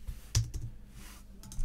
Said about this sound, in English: So let me type this at the top actually.